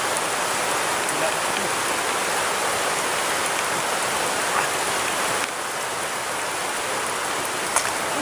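Heavy rain pouring down outdoors, a dense, loud, unbroken hiss of drops hitting surfaces close by, steady for the whole stretch with no voices.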